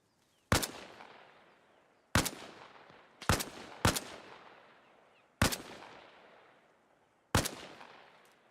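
Gunfire in the video game ArmA Reforger: six sharp, loud single shots at uneven intervals, each trailing off in a long, rolling echo.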